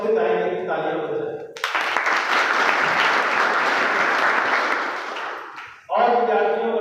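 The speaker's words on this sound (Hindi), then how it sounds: "इसके लिए तो हम सबसे चाहेंगे कि तालियां बजाएं।" Audience applause fills a college auditorium during a student induction programme, a loud, sustained wash of clapping that bursts in between stretches of someone speaking into a microphone and fades as he resumes.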